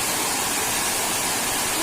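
Kandungos Falls in Capinis, Marabut, pouring as a steady, loud, broadband rush of falling water that stays constant throughout with no break.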